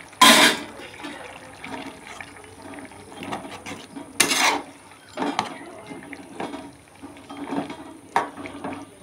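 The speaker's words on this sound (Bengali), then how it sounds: "ভেজে রাখা বড়াগুলো দিয়ে দেব।" Pre-fried bora fritters dropped into a simmering pot, giving a sharp splash and watery bubbling followed by several softer splashes and liquid movement, with no voices.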